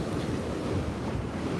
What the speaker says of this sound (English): the water just rushed over here